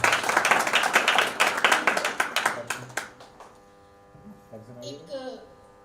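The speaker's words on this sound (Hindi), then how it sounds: "एक बार तालियों से थोड़ा उत्साहवर्धन करेंगे" Audience claps at a Hindi poetry recital (kavi sammelan) in Bareilly, a dense burst of hand claps for about three seconds that thins out and stops, followed by a quieter stretch with a faint voice.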